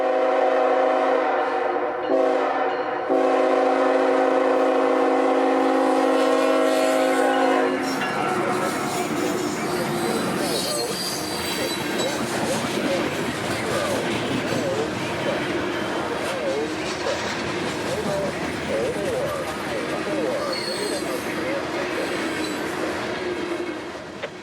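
A loaded coal freight train bound for Orlando, hauled by EMD locomotives on the S-Line between Waycross and Baldwin, opens with a loud chord of horn blasts, then its cars rumble and clatter past close by with squealing wheels.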